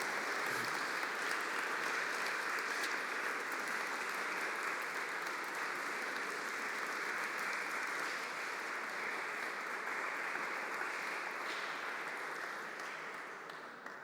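Sustained audience applause after a talk on the political use of history, a dense even wash of many hands clapping that holds steady for a long stretch and fades slightly at the end.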